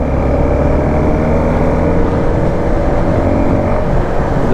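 A BMW GS310 motorcycle engine drones with a steady, loud, close exhaust note, a continuous low rumble held at constant revs without pauses.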